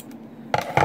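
Scissors cutting into a plastic Star Wars Kylo Ren Black Series action figure part, two quick crisp snips in close succession, near and fairly quiet.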